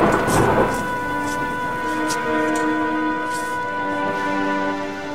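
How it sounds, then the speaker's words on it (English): A thunderstorm sound effect opens with a rumbling burst of thunder. A steady hiss of rain follows, with sustained musical tones running beneath it. "A storm had came."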